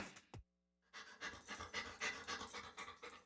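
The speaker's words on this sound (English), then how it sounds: "To some, this might sound like a typical family dog." A family dog pants steadily, close up and loud, with quick rhythmic breaths after a brief gap near the start.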